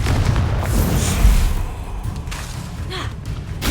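A Confringo blast spell from the video game Hogwarts Legacy goes off as a loud, booming burst with a rumbling low-end thud that fills the short moment, with no talk over it.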